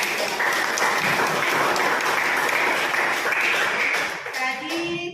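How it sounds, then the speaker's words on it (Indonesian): Audience applause during a teachers' coaching session, a dense steady wash of many hands clapping that thins toward the end, with a voice faintly underneath. "tepuk tangan dulu"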